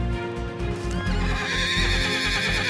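A wild stallion neighs loudly and close by in a long, wavering whinny, while a steady rhythm of hooves clip-clops underneath throughout.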